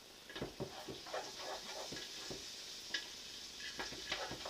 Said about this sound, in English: And you keep stirring this until it really does start to blend in.